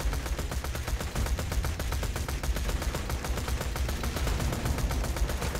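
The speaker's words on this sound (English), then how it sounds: "Holy God, I'm shooting with Krieg." Rapid automatic gunfire from Krieg the Psycho's weapon in Borderlands 2 rattles on continuously in a dense, steady stream of shots, loud and unbroken throughout.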